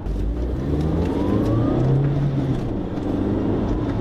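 Volkswagen Golf GTI Mk4 turbo engine pulling under boost from inside the car, a steady, close, continuous drone with a slowly rising tone and no talking.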